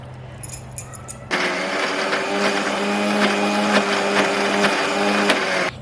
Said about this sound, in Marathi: आता आपण वाटण करून घेऊया बर थंड झालेलं आहे तर आता मी मिक्सरच्या भांड्यात टाकते